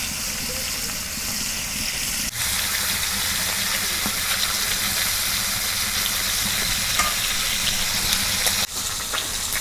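Brikkot fish fries in a pan, used in place of a tawa, giving a loud, steady, rushing sizzle with a couple of abrupt breaks and no voices.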